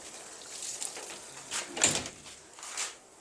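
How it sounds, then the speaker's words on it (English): A garden door swung shut with a few soft knocks and a brief sliding scrape, quiet and close, no talk. "So I'll just close the door again."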